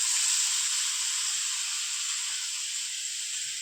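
Marinated masala fish fries in a pan of oil, giving off a steady, close, bright sizzling hiss that runs evenly and uninterrupted.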